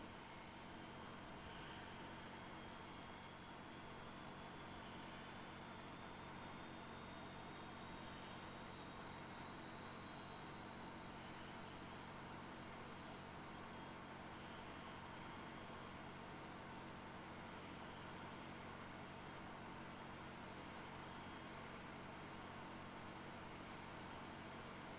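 Q400 turboprop engine starting in a flight simulator game at Seattle, a faint, steady broadband whine and rushing hum with a thin rising tone, continuous and alone.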